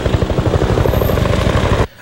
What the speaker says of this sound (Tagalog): Panay naman ang lipad ng mga military helicopter.